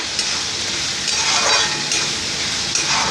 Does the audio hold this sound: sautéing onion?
yes